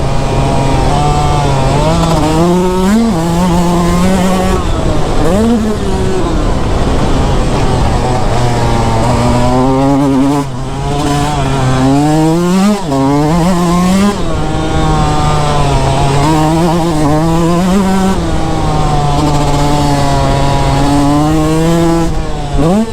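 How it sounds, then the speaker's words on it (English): A Yamaha YZ125 two-stroke motocross bike revs hard and close, its high, buzzing engine note rising and falling repeatedly through gear changes and throttle blips, loud and continuous throughout. "Yamaha two-stroke, I definitely go with the YZ125 for that added power"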